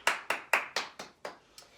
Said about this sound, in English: can you give yourself a clap?